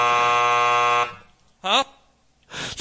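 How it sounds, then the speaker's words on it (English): A steady electronic censor beep, a loud sustained tone with stacked harmonics, runs for about a second and bleeps out a word, then short bursts of talk follow. "They definitely beeped it"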